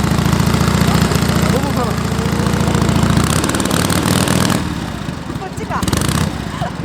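A 1935 Indian motorcycle engine idles with a steady low thump and is blipped up through a couple of revs, loud and close, while someone talks over it.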